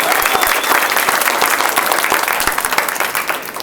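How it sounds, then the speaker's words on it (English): Audience applause for the MCs at a youth speaking event, a loud, dense burst of clapping that holds steady and then eases slightly toward the end. "A round of applause for our MCs today."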